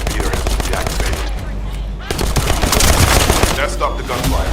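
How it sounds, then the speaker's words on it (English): Gunfire rattles in the video game The First Descendant, dense bursts of rapid automatic shots and single cracks with a brief lull midway, loud and close, under a busy game soundscape. "That stopped the gunfire."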